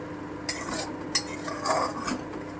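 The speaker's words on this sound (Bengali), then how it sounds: "ভালো করে কষিয়ে নিচ্ছি" Spice paste for Bengali tangra fish tel jhal stirred in a pan with a spoon, with scattered metal scrapes and clinks over a steady low background, fairly quiet and close.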